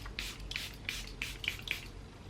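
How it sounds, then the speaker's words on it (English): Makeup setting spray is misted onto a face in six short, soft hissing puffs at a steady rhythm, close to the microphone and fairly quiet, with no talking. "We're also going to do a spray break"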